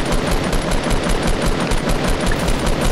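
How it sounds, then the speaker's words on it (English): Rapid automatic gunfire in Fortnite, a dense, loud, continuous burst of evenly spaced shots filling the whole stretch, with no talking. "It's always good to just shoot at them even though you're not hitting them"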